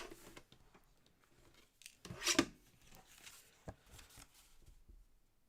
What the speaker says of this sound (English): I'm just going to trim a little bit of this to make a bigger white background.